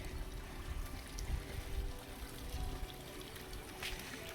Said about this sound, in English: And check out this water down here. See that little stream flowing?